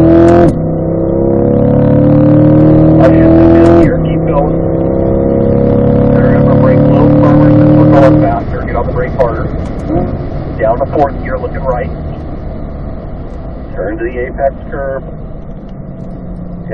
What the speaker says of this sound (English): Let's go ahead and accelerate here. Build up some speed up to fourth gear.